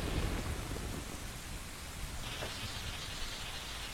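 Steady rain pours through a lightning storm in a Zelda video game, with a dense wash of rainfall throughout and low rumbling thunder beneath it, constant and fairly loud with no voices.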